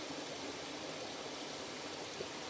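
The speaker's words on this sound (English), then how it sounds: "enjoying the quietness of this spot and just the ambience of the little creek" A little forest creek flows near a campsite in a valley, a steady, soft rushing and trickling wash of water with no voices.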